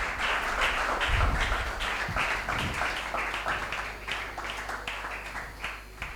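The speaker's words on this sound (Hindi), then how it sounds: "आए यीशु के लिए जोरदार तालियां बजा दें।" A church congregation at a sermon claps loudly for Jesus, a dense run of rhythmic hand claps in steady beats that stays strong and near throughout the stretch.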